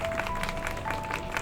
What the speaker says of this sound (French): Vous pourriez quand même applaudir Monsieur le directeur.